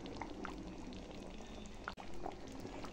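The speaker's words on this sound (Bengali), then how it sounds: "সব শেষে এখন আমি ঘি ছড়িয়ে দিচ্ছি" Ghee scattered over a simmering potato and taro curry in a pan, a soft bubbling and sizzling hiss with faint liquid ticks, quiet and steady throughout.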